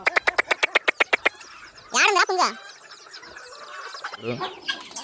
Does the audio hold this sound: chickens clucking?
yes